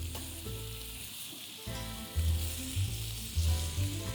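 Brown-sugared bacon slices sizzle on a smoker in a steady crackling fry, broken briefly by a short lull, with low tonal hum and soft clunks as slices are turned; no talking.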